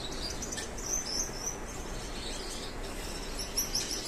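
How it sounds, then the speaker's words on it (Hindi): Several small caged birds chirp and tweet in quick, high bursts close by, over a steady low background hum; no one speaks. "और इसमें ना नई चिड़ियाएं भी आ गई हैं।"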